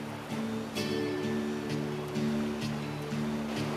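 Whitewater river rushing below Bow River Gorge, a steady, loud broadband roar of churning water that fills the whole stretch, with low rumbling undertones and no voices.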